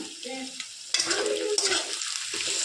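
Sliced capsicum, cabbage and split green chillies stir-fry in a pan. A short quiet tonal hum gives way to a sudden burst of loud sizzling and scraping stirs, close and continuous, with no talk.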